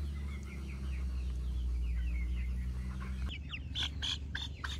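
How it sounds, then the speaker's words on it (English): Backyard chickens, including a Plymouth Rock hen, cluck and murmur softly in a steady series of short calls, followed by a few louder, sharper fowl squawks near the end. "So we just recently got more chickens"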